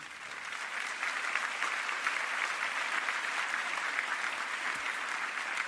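A congregation at a Portuguese religious assembly applauding, dense sustained clapping from a large crowd that swells slightly after the first second and holds steady, fairly distant and even, with no speech.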